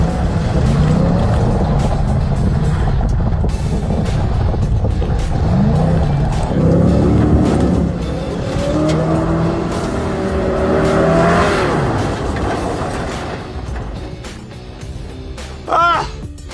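A muscle truck runs a slalom course, its engine rising and falling as it accelerates and turns between cones, with a commentator talking over the steady motor noise and a brief sharp sound near the end.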